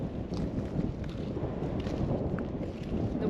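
Outdoor wind buffets steadily across a microphone for the whole stretch, a constant low, rumbling rush with no clear gusts or pauses, at a moderate level with no voices.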